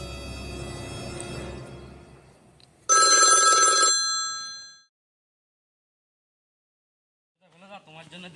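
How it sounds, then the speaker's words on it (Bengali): An outgoing phone call rings: a bright ding-like tone sounds once for about a second, then fades into quiet before a voice briefly begins at the end. "ফোন লাগাচ্ছি"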